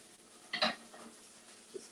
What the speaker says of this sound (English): Just give it a little mix